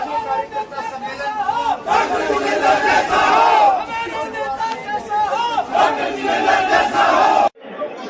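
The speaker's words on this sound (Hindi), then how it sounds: "आप देख सकते हैं कि हजारों की भीड़ यहाँ पर एकत्रित है।" A large crowd of thousands gathers at a party workers' rally in Jaipur, a dense roar of chatter and cheering shouts sustained loudly throughout before a brief drop near the end.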